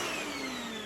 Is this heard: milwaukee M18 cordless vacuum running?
yes